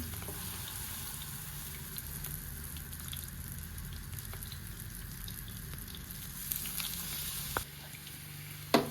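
Banana pieces fry in ghee on a dosa pan, giving a steady close sizzle with small crackles and a few soft clicks of handling and no speech.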